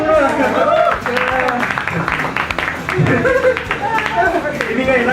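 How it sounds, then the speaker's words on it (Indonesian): A stand-up comedy audience applauds a comedian after his set, steady clapping with crowd chatter and a voice talking over it throughout. "Tepuk tangan untuk gue dong lo."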